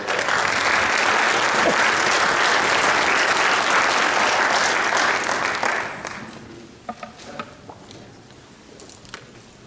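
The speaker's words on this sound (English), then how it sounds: "Let's give a round of applause." A theatre audience bursts into loud, dense applause as a guest speaker is welcomed to the stage at a talk on child drug abuse, the clapping sustained for several seconds and then thinning to a few scattered claps.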